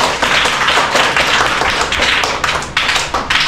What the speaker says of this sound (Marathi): चला 1 2 3 क्लॅप